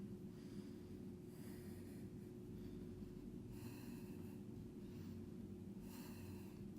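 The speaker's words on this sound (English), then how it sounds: "Breathe." Slow, audible breaths during a vinyasa yoga flow come in long, spaced exhalations roughly every two to three seconds over a low steady background hum, close and fairly quiet, with no talking.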